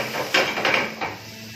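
Ginger-garlic paste, about two teaspoons, roasting in a pan over a normal flame for a samosa chaat, with a few short clattering scrapes of a spoon against the pan over a soft steady sizzle.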